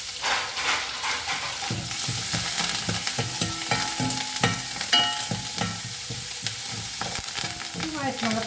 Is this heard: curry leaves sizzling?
yes